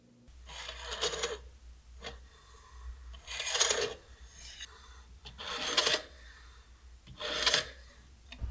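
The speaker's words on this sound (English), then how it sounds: "it was time to grind in my final edge bevels" Bench grinder or belt grinder putting the final edge bevels on a hand-forged dagger blade, in several separate rasping passes of a few seconds each with short pauses between, fairly close and steady.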